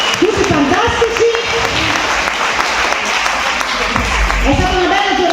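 A crowd claps loudly and steadily for the athletes at an Olympic-style boxing event in Nicotera. The applause continues throughout while a voice speaks over it.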